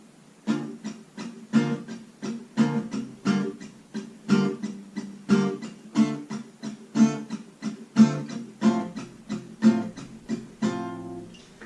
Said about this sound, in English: between those 3 loud downstrokes, we're going to do 2 muted downstrokes.